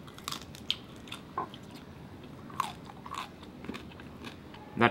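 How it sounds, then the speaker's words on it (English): Sharp, crisp crunches from biting into crispy pork belly crackling dipped in sauce, a handful of scattered close bites over a faint background hiss, the last one loudest. "I hope you guys can hear the crunch."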